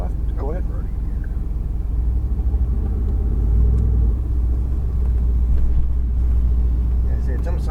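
A Mercedes-AMG GT R front mid-engine car pulling away in gear, a low steady engine rumble that swells slightly partway through, with people talking over it.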